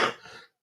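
A single short, harsh cough bursts out loudly and trails off within half a second, alone with no talk around it.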